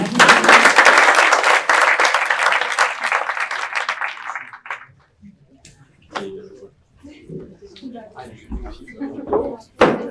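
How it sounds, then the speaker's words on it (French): Audience applause for a prize winner at an entrepreneurship scholarship final and award ceremony, dense and loud for about five seconds before fading into scattered movement and speech. "Donc Joséphine vient de Nantes, donc on peut l'applaudir très fort."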